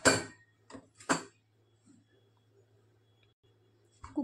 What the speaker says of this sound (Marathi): झाकण लावून घेऊया.